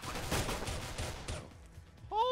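Rapid tapped gunfire from Counter-Strike: Global Offensive, a dense burst of several close, loud shots in quick succession that fades out, followed by a brief tonal chirp at the end.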